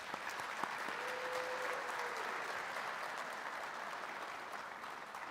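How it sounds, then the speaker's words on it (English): Faint, even audience applause for staff and faculty at a student engagement awards ceremony, a sustained wash of clapping heard from a distance. "Let's give them a round of applause, please."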